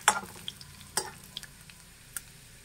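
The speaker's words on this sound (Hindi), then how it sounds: "हींग के डालते ही हम कटी हुई लहसुन डाल देंगे" Garlic and asafoetida sizzle in hot oil in a pan as a tempering for dal. A soft, continuous frying hiss is broken by a few sharp crackles and stirring clinks.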